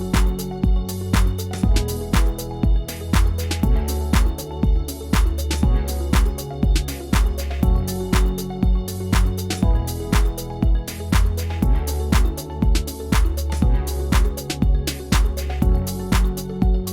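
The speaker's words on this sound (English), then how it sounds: "let's go into Serum and pick a more synthy sound" A synthy Serum synthesizer patch kept within one octave plays a busy, rhythmic pattern of repeated short notes over a steady pulsing beat, full and even in loudness throughout with no voices.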